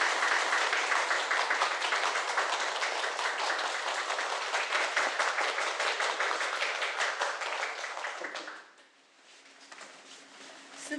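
A stage audience greets an arriving speaker with dense, sustained clapping that holds steady for about eight seconds, then thins and fades out quickly, leaving a quiet room.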